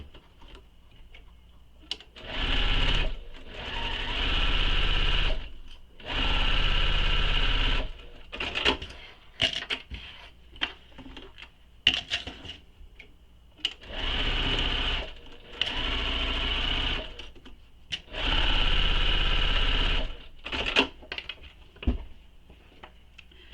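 A sewing machine stitches the sides of a bag in repeated bursts of rapid mechanical whirring, each lasting a few seconds, broken by short pauses and light clicks.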